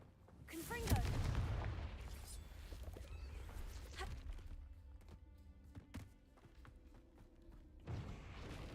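Confringo fire spell blasts in the Hogwarts Legacy video game: a loud booming burst early on followed by scattered fainter thuds and crackling impacts, with game combat noise continuing around them.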